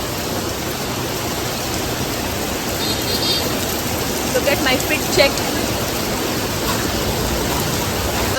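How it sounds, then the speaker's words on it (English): Steady, dense rain pours down in Hanoi, Vietnam, with a constant hiss, while a voice speaks briefly over it. "Look at the way it is raining."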